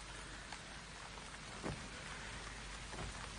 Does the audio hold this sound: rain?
yes